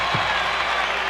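A basketball arena crowd at the 1988 NCAA championship between Kansas and Oklahoma roars in approval of a changed call, a dense, sustained wash of cheering and applause.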